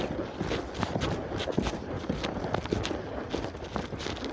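Horse hooves stepping and shuffling on ground during a training session, a continuous muffled stream of soft irregular footfalls under faint background noise, with no voices.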